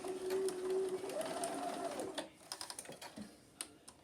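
A sewing machine runs a short quarter-inch seam across the end of a fabric zipper pull, a steady mechanical whir for about two seconds, then sparse clicks and small handling taps.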